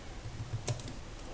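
Keys clack on a computer keyboard in a short run of soft, quick taps, close and fairly quiet over a faint background hum.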